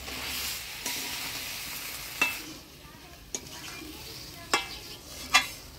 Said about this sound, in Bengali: মশলার সাথে আলু মটরটা ভালো করে নাড়াচাড়া করে নিলাম।